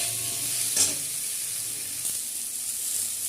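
Potatoes with turmeric and salt being stirred in a frying pan, a soft continuous sizzle with a brief scrape of the spoon early on, fairly quiet and close, no voices.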